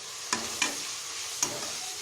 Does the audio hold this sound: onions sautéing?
yes